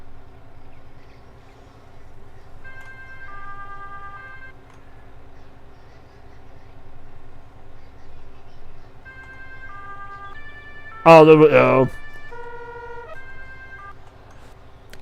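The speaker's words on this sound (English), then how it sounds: "I don't understand why I only have one siren." Emergency vehicle siren in Farming Simulator 22, a wailing tone rising and falling in short repeated cycles over a steady engine drone, with a loud burst near the end and brief talk.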